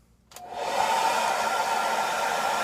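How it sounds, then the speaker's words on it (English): A blow dryer on its cool setting switches on after a brief quiet moment and runs with a steady, loud whooshing whir close by. "I'm going to put on a cool blow dryer and just let this dry about 30 seconds"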